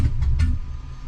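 A Cadillac Escalade engine cranking over and failing to catch, a few uneven starter pulses with low rumble that fades without the engine starting.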